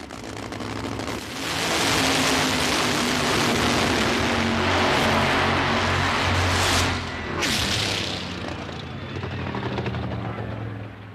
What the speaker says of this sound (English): High-powered vehicles capable of reaching nearly 300 miles an hour in less than 6 seconds